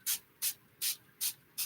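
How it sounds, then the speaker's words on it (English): Five quick, even hisses of a spray bottle misting paper, evenly spaced and close, with no talking. "what if I spray the paper and put wet paper down instead of the other part being wet?"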